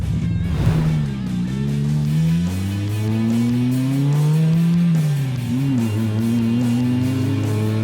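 An MK1 race car engine climbs in pitch under acceleration, drops briefly at a gear change, then pulls up again, loud, close and continuous with no talk over it.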